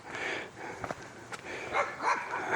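A dog barks several times in short, separate yelps and woofs, moderately close, with breathy background noise between the barks.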